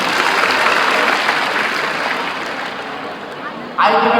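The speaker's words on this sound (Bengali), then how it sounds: "আরেকটা জোরে একটু হাততালি দাও।" Applause from a large audience at a grand celebration: a dense, loud wash of many hands clapping that holds steady for several seconds, thins slightly toward the end, then swells again briefly.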